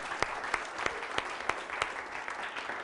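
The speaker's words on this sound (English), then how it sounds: "you've got a big fan entourage here from the applause" Audience applause at a film festival screening event, a steady patter of clapping hands with sharper individual claps standing out at regular intervals, moderately distant and soft, no voices over it.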